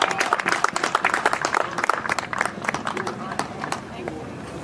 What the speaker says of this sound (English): one more round of applause for our three retirees